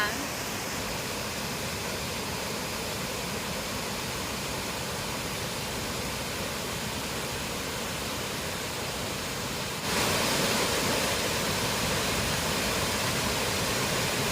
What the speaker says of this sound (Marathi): धबधबा किती किती मस्त असं वाटतं